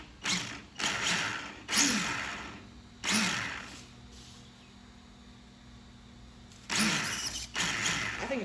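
An RC car's electric motor revs in short bursts of throttle, its spur gear meshing slightly too tight against the pinion and whirring with a gritty edge, several separate pulses with quiet gaps between them, close up.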